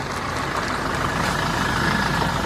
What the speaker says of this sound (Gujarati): ડ્રાઈવર ઊભી રાખ ગાડી.